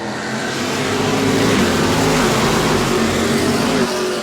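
Dirt track race cars at New Smyrna roar together at the start of the night's final feature race: a loud, continuous, close wall of engine noise that swells and holds steady.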